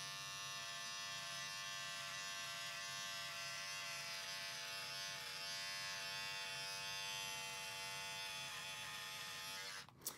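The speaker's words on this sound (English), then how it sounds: "a cool trick and hack for the clippers, ride the top part of that clipper right where that beard is" Electric beard clippers trim a beard with a steady, close, high-pitched buzz that runs unbroken for about ten seconds and then cuts off with a click at the end. Nobody talks.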